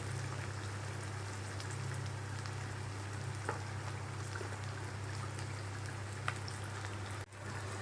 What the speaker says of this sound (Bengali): এখানে আমি পেঁয়াজটা ভাজছি